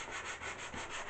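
A sanding block rubs over filled wooden furniture being restored, a soft rhythmic scratching in repeated strokes, close and fairly quiet, with no voices.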